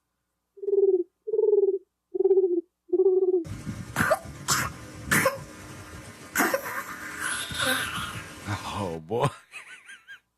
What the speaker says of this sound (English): I never heard a bird cough before.